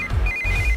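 A telephone rings in a film scene, a steady electronic ringtone tone over low background rumble, brief and clear with no speech over it.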